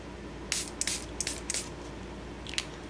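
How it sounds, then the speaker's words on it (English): A few short hissing bursts of water from a spray bottle, close by, in quick uneven pairs with brief pauses, over a quiet room background. "And then I'm going to spritz them with a little water."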